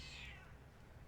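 A cat gives a single short, close meow, thin and high, over a steady low background hum, with no talk.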